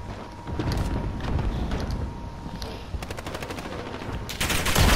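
Short burst fire from a FAMAS rifle in a shooter game, several clipped three-round volleys cracking in quick succession near the listener, growing louder toward the end with no talk over it.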